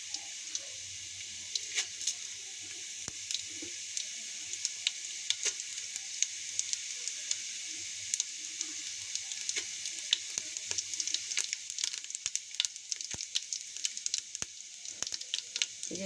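Cumin seeds sizzle in hot oil in a pot, a steady bright crackle with scattered sharp pops running throughout, fairly close and moderate in level with no talk.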